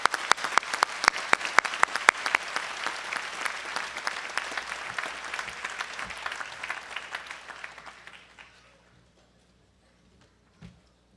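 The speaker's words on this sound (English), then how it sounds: "Please join me in a round of applause." Commencement ceremony audience applause, loud, sustained clapping from a large crowd that gradually thins and fades out after about eight seconds, leaving near silence with a single faint late clap.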